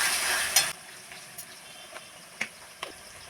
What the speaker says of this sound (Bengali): দিয়ে আবারও একবার সুন্দর করে নেড়ে নেব।